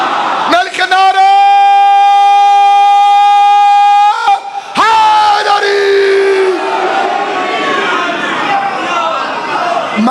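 Crowd at a religious gathering honoring Ali bursts into loud chanted slogans in unison, a sustained roar of many voices with a brief pause before a second surge of shouting.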